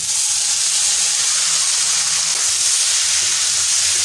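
Leafy greens are poured into a hot pan of fried ingredients and set off a loud, continuous hiss and sizzle of steam that stays even for a few seconds without talk.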